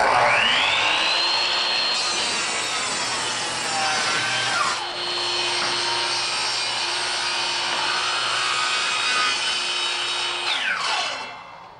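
A power saw fitted with a carbide-tipped blade cuts through wood for trim carpentry, the motor whining up to speed, then two steady cuts with a rough rasping bite before it spins down.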